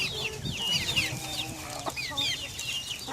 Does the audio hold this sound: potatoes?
no